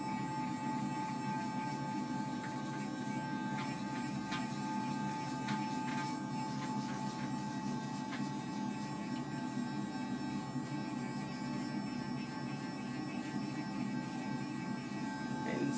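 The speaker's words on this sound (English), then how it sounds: "next I'm going to use my Clarisonic brush" A Clarisonic electric facial cleansing brush hums steadily and faintly through an at-home facial, a continuous low drone with a thin high whine that holds unbroken from start to finish.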